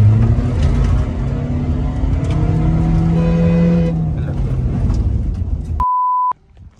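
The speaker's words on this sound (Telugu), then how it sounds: "సెకండ్ గేర్ లో ఉంది బండి చూడండి" A tuned Stage-2 Volkswagen Polo hatchback engine drones steadily in second gear, loud and close, with rising whining tones and no talk, before a sharp beep cuts in near the end.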